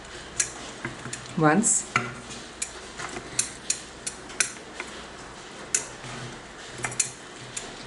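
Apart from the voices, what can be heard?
mixing preserved rum cake fruits with wooden ladle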